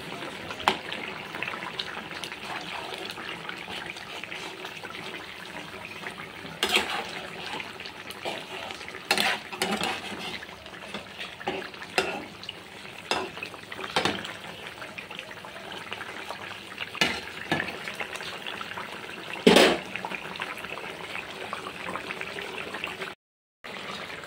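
Salt and spices being sautéed and stirred in a pan during a long cooking stretch: a soft continuous sizzle broken by intermittent scrapes and knocks of a spoon, with one louder clatter near the end.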